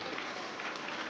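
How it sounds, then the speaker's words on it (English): A brief burst of audience applause at a startup competition, dense clapping at moderate volume that holds steady throughout. "Please give Our Lady big applause."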